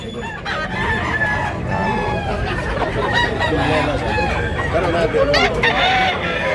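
Roosters crow, loud and close, at a chicken sale in Tabunok, Cebu, with other birds clucking and people talking underneath.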